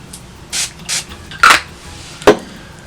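A makeup sponge being wetted with Sephora Beauty Amplifier spray, heard as a few short, close hissing spritzes with soft rubbing between them and a sharper burst near the end.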